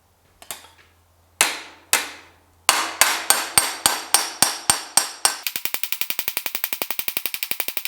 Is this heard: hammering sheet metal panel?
yes